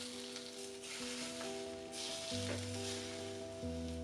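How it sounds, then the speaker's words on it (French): Hot oil poured over chopped scallions, garlic and chili in a bowl, for beef biang biang noodles, crackles into a steady, close sizzle that holds throughout with no talking. "Mettre 2 cuillères à soupe d'huile pour chaque bol à chauffer et bien faire monter en température. puis la verser sur la cébette,"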